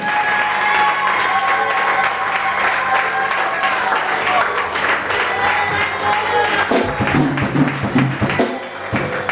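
A church congregation at a women's day service applauds and cheers loudly and continuously, with voices calling out over the clapping and a few tones audible in the mix.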